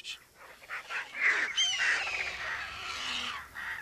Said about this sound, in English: I think it's an eagle.